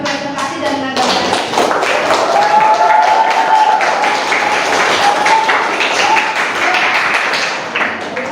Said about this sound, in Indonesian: Tepuk tangan untuk pengajar Tio. Tepuk tangan lagi untuk kelompok yang sudah maju presentasi